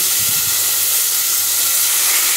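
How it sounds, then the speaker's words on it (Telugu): Tamarind pulp hits hot tempering oil for rava pulihora and sizzles loudly up close, a dense steady hiss that carries on without pause. "ఇప్పుడు మనం దీనిలో చింతపండు గుజ్జును కూడా పోసుకోవాలి."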